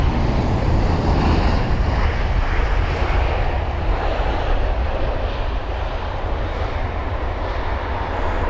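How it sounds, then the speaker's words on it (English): A Turkish Airlines A330-300 airliner arrives at London Heathrow with a steady, loud jet engine roar. The broadband rush holds throughout with a little wind noise and no talk. "here comes the Turkish Airlines A330-300 this time"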